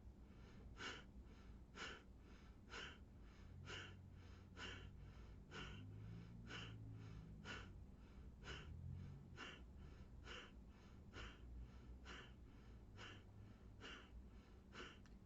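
Slow, steady breathing in through the nose during a basic breathing exercise, with a long series of soft, evenly spaced breaths recorded close and quiet, and no speech.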